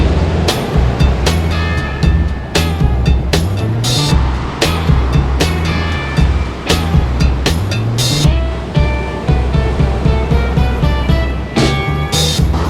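Ocean surf rolls in at Kuta beach in Bali, a dense continuous roar with repeated sharp splashes and crashes, loud and close throughout with no talk.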